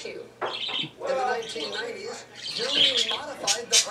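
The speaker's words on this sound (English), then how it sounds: "Six birds, and they're loud." Loud bird chirps and squawks ring out close by, overlapping with people talking.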